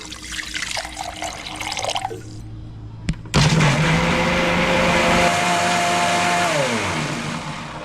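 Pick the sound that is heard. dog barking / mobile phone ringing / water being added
water being added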